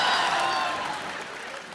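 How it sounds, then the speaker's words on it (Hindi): Studio audience at a comedy talk show applauds the team of a Hindi film, a dense wash of clapping that starts loud and slowly fades over a couple of seconds. "जोरदार तालियां एक बार काबिल की पूरी टीम के लिए"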